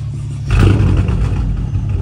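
A V8 car engine idles with a low rumble, then is revved hard about halfway in. The roar is loud and close, jumps up suddenly, and holds strong to the end.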